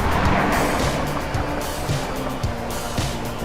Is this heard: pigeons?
no